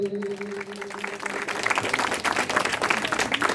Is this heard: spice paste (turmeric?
no